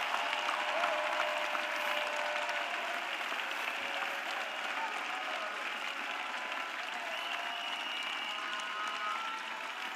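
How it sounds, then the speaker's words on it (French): A church congregation at a prayer and intercession service claps together in steady, sustained applause, a dense even wash of many hands heard from a moderate distance throughout. "Let us clap for Jesus Christ."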